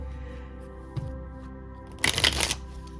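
Tarot cards are shuffled close by, a soft tap followed by a brief, crisp riffling burst of cards against quiet background hum.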